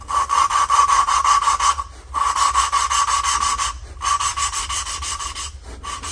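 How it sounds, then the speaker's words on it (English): Valve on a Honda XL500 engine being lapped by hand with grinding compound: a steady gritty rubbing rasp in rhythmic back-and-forth strokes, close and fairly loud, broken by two short pauses. "I bought some valve grinding compound. I'm going to put a little bit on the valve here"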